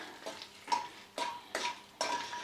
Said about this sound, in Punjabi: ਹੁਣ ਆਪਾਂ ਆਪਣਾ ਤੇਲ ਗਰਮ ਹੋ ਗਿਆ ਤੇ ਹੁਣ ਆਪਾਂ ਫਰਾਈ ਕਰ ਲਈਏ ਗਿਰੀਆਂ